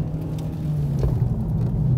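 A Mitsubishi Evo on an autocross run with a worn-out clutch, heard from inside as a steady low engine drone and rumble holding even for two seconds.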